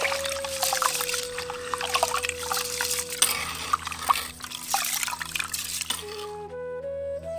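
Water pours steadily over raw rice set to soak, a continuous trickling splash with small drips on top of a low, steady background hum, ending in a few faint tones.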